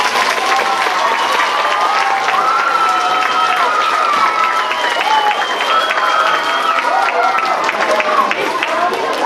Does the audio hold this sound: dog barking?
no